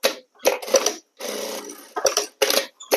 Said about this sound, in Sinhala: තියාගෙන අපි මෙතනින් ෂිපර් එක අයිනෙන් යන්න මැස්මක් මහනවා.